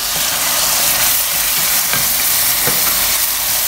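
Spices such as garam masala, coriander powder, crushed red chilli, red chilli powder and turmeric sizzling in a pan for aloo palak, a steady loud hiss with a few soft scrapes of stirring.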